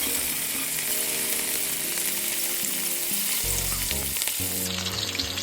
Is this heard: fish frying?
yes